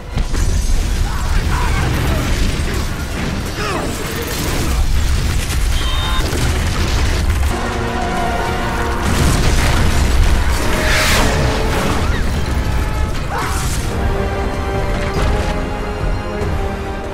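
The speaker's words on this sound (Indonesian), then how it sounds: "Terjadi dua ledakan besar dari arah depan dan belakang mobil tahanan" Two large explosions go off at the front and back of a prisoner transport vehicle: heavy booming blasts roll through a busy, cluttered scene, with crashing debris and mechanical noise, loud and close throughout.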